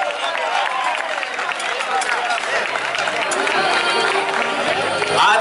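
Crowd at an outdoor popular rice feast (arrossada popular) applauding steadily, a dense wash of clapping mixed with chatter and voices, moderately loud and continuous throughout.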